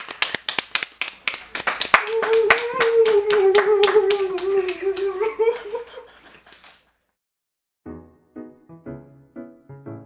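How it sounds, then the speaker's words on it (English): A round of applause for Jane Mary: scattered hand claps, then a sung or sustained voice tone over light clapping, a brief silence, and more bursts of clapping and laughter-like chatter at the end. "Now let's give a big round of applause for Jane Mary."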